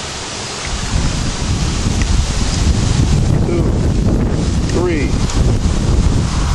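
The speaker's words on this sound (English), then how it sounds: "That's going to be hard to do with this wind blowing like that." Strong wind blows outdoors by a pear tree, roaring steadily and buffeting the microphone throughout, with faint background sounds beneath.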